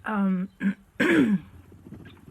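A throat clearing followed by a harsher cough-like burst, close to the microphone, with a short gap between them and quiet room noise after.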